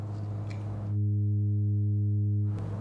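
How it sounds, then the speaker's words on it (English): A Pittsburgh Modular Voltage Lab 2 synthesizer plays a sine wave, a steady, pure, loud tone held for about a second and a half and set apart by a brief room noise before and after. "we're going to start with a sine wave because everybody loves a sine wave"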